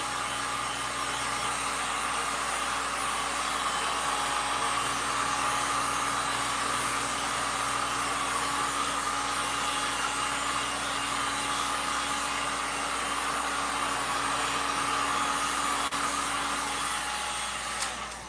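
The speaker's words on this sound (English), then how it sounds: "So real quick, hitting it with the heat gun." A heat gun blows hot air over a resin craft piece, a loud, constant whirring hiss that runs steadily before shutting off near the end, with no voices.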